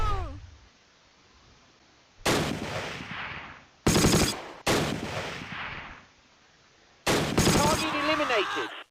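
Machine gun fire in Close Combat: Last Stand Arnhem, several loud rapid bursts cutting in and out, separated by near-silent gaps, with brief voice snippets.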